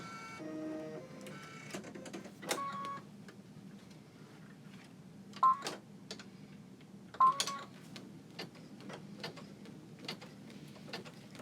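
Home embroidery machine stitching an in-the-hoop design for sewing pattern weights, steady mechanical whirring with rapid needle ticking and scattered sharper clicks throughout.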